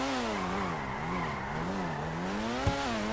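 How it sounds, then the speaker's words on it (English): Tires of an Ocelot Penetrator in a racing video game squeal through a continuous power slide, wavering in pitch over a steady engine drone, with one brief thump near the end. "you can do some decent power slides"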